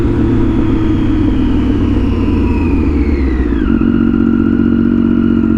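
Full-carbon Triumph Daytona 675 triple engine droning steadily and loud while riding, a sustained mid-range growl that drops in pitch partway through as the revs fall or a gear changes.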